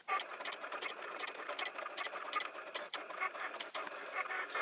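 A Cricut cutting machine cutting paper on a purple sticky mat for a unicorn puzzle, giving a steady whirring with rapid repeated ticks and taps, soft and close, no talking.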